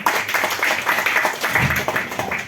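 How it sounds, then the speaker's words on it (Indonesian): A crowd claps for the DPR at a forest and land rehabilitation outreach event, producing a continuous patter of applause at moderate volume with no talk over it. "tepuk tangan untuk DPR dulu"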